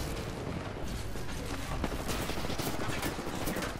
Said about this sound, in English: There's grenades everywhere